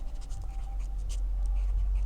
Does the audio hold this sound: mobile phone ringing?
no